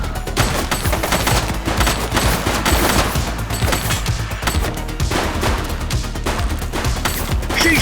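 Dense gunfire in the police game The Precinct, a loud, sustained fusillade of rapid shots and bursts close by, continuous throughout with no talk over it.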